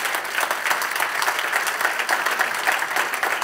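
A church congregation at a Sunday service applauds in a brisk, continuous round of many hands clapping together for a few seconds, fairly close and full.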